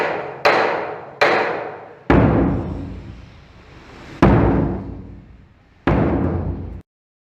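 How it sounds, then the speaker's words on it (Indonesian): A bedug, a large Indonesian drum, is struck five times at uneven intervals, each deep booming hit ringing out and fading before the next. "Yang kedua, bunyi suara beduk."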